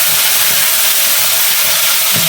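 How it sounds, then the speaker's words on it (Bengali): Tomato, ginger paste and green chilli sizzle loudly in hot oil, a dense, steady hiss that stays constant throughout, close up and without talk. "এখন আমি টমেটো, আদা বাটা আর কাঁচা লঙ্কাটা আমি দিয়ে দিচ্ছি।"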